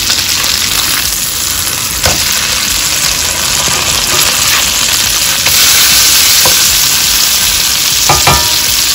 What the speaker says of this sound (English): You just want to brown the outside of the meat.